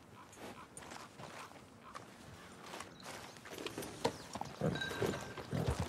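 Horse hooves clip-clop at a walking pace in Red Dead Redemption 2, a steady run of soft, close footfalls over ambient game sound that builds slightly louder toward the end.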